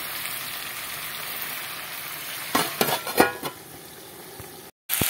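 Jackfruit and prawn curry sautéing in a covered pan, a steady close frying sizzle with a few louder stirring scrapes in the middle before a brief silence.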